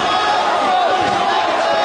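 Crowd noise fills a wrestling arena during the Danielson versus Morishima Fight Without Honor match, a loud, steady roar of many voices with a commentator talking over it.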